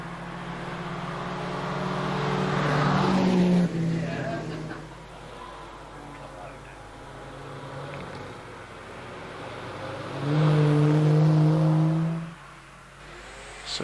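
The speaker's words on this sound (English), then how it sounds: "So we see Tim Stokes in the Suzuki Swift Sport 1600 car, number 22." A Suzuki Swift Sport 1600 race car, number 22, climbs a hill climb course with two loud bursts of engine revving through the gears, alongside a commentator speaking.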